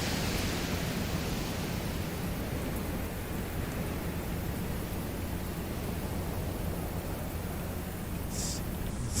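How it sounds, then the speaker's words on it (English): Persistent background wind in the Storm Chasers storm-tracking video game, a steady broad rushing noise that holds at constant loudness throughout, with no voices. "the annoying wind sound that we've had in the background persistently since the last time I started the game"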